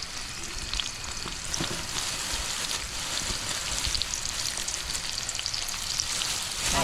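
Chopped onion fries in hot oil with garlic in a pan outdoors, giving a steady crackling sizzle with faint stirring scrapes, fairly close and continuous, no voices.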